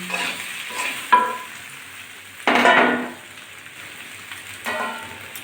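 Fried lentil fritters (dal bora) being stirred in a pan, a soft sizzle broken by a few separate bursts of louder scraping and a metallic knock, close by, with no talking.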